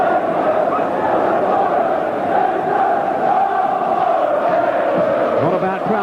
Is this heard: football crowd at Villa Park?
yes